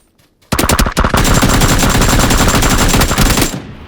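Rapid automatic gunfire in a video game, a loud continuous burst of evenly spaced shots that starts abruptly and runs for about three seconds before cutting off.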